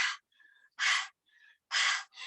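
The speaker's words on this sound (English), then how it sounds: "Let's listen to how you're breathing." Heavy, breathy exhalations after running, in three loud bursts, separated by softer wheezy intakes, close and alone with no talk.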